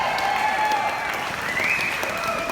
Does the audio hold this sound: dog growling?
no